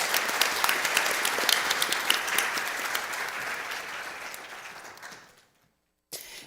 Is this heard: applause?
yes